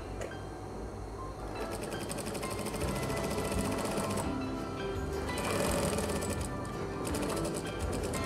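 A sewing machine stitches along the folds of a back-pleated sarong skirt, giving a close, steady mechanical whir with a fast rhythmic clatter that runs almost unbroken, easing slightly near the end.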